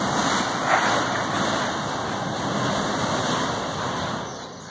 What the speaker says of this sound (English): What you're hearing is that gas just come out of the ground.